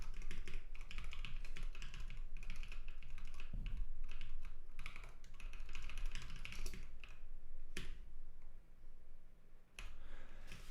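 Fast, continuous typing on a computer keyboard during a live Rust programming session, close and crisp, with bursts of keystrokes broken by brief pauses.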